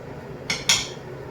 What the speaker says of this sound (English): So we're just going to add this whole box to this pan here.